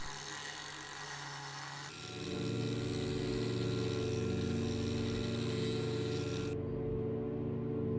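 A Dremel tool sanding oak wood starts up after a quieter moment and then runs with a steady high-pitched whir and gritty rubbing, close and continuous, before its tone drops near the end.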